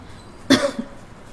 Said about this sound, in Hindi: क्या हुआ बेटी, खांस क्यों रही हो?